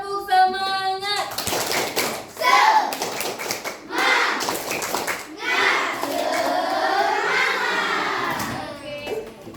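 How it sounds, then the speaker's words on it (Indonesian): Schoolchildren in a classroom perform the rhythmic tepuk semangat, bursts of group clapping alternating with their chanting voices in a lively, patterned sequence. "kita tepuk semangat lagi biar tambah semangat terus ya"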